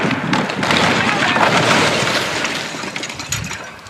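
A concrete corn silo of roughly 220 tons collapses during demolition, giving a loud, sustained crashing rumble with heavy thuds and breaking debris that gradually fade toward the end.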